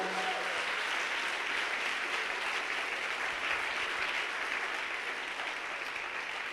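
A church congregation applauding and acclaiming God: steady, dense clapping from a large crowd that goes on without a break, with a faint murmur of voices underneath.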